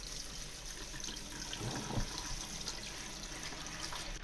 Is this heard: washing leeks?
yes